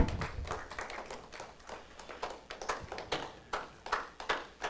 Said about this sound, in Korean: 우리 항상 수고하신 우리 찬양팀들에게 우리 격려의 박수 한번 해주십시다